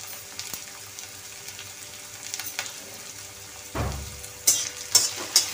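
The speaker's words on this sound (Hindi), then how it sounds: "चलाते हुए भूनते हैं इसको।" Onion and garlic fry in oil in a kadhai with a soft, continuous sizzle, broken by a few sharp scraping clinks of stirring toward the end.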